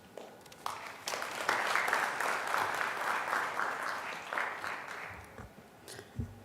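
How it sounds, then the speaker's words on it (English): Applause for the ambassador from an audience at a panel discussion during an innovation week event in Nairobi, a broad, sustained round of clapping that swells after a quiet start and tapers off with a few stray claps. "Let's give him another round of applause"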